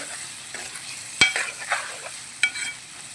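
Sambar with sambar powder, asafoetida and chili powder is stirred in a pot. A soft bubbling simmer is broken by two sharp clinks of the spoon and a few brief scrapes, close and quiet, with no talking.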